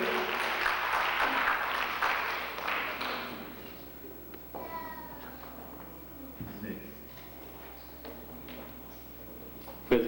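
Church congregation applauding at a missionary service inauguration, a dense broad clapping wash for the first few seconds that thins out, with talk in the room underneath and a steady low hum.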